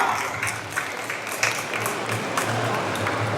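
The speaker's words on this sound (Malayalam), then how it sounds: "ഒരു നല്ല കൈയ്യടി കൊടുക്കാം" Audience applause at a film trailer launch event, a steady wash of many hands clapping that carries evenly through the whole stretch with a low hum beneath.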